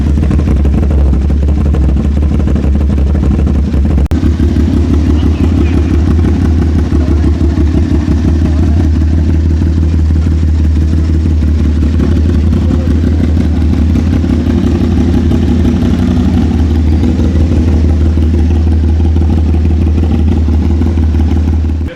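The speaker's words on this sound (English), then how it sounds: "So this is how it sounds at idle." An Aprilia RS 660 sport bike fitted with an SC Project full titanium exhaust idles steadily, a loud, close, deep burbling drone with a constant low throb and light mechanical clatter, no voices.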